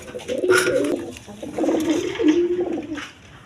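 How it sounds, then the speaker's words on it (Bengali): A pair of racer pigeons gives a few close, throaty coos in quick succession, rising and falling in two short bursts before trailing off. "এক পেয়ার রেশার কবুতর আছে"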